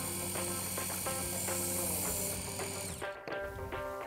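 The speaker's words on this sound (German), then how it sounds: "müssen wir mal das Messer schleifen," Steady whirring of a motorized knife sharpener powered from a Ford F-150 Lightning pickup, with intermittent grinding scrapes as a blade is drawn through it, stopping near the end.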